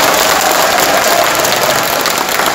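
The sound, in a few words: audience applause at party convention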